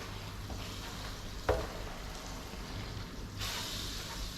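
Butter melts and sizzles in a frying pan for an Abkhazian dish, a quiet, steady crackle with a sharp utensil clack near the start and a brief swell of sizzling later.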